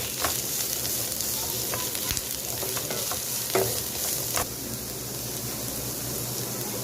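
Chilli and vegetables sauté in a pan for veg noodles, with a continuous close sizzle and a few sharp stirring clatters and scrapes in the middle, no voices.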